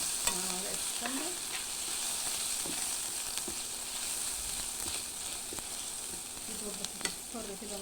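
Crushed garlic sizzles steadily in ghee for a fatta topping, a close, continuous frying hiss with occasional light stirring scrapes and clinks, no speech.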